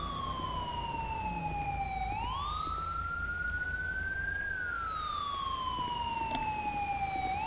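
In Grand Theft Auto V, an ambulance siren wails in long rising and falling sweeps as it approaches, fairly faint at first beneath low engine rumble, with no talk.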